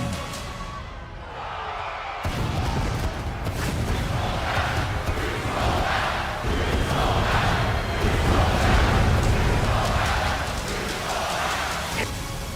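Wrestling arena crowd roaring and booing in a loud, sustained swell of voices that rises suddenly and carries on for several seconds, with no talk.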